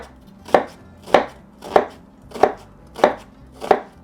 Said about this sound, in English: we actually have to cut an onion